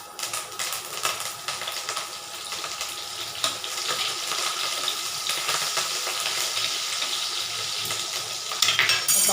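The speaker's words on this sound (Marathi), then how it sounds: "कढीपत्ता, कोथिंबीर, जिरी, मोहरी, लसूण चांगला तडका द्यायचा याला." Curry leaves, cumin, mustard seeds and garlic sizzle in hot oil as a tempering for a sweet-and-sour kadhi, a steady crackling hiss that grows slightly louder toward the end.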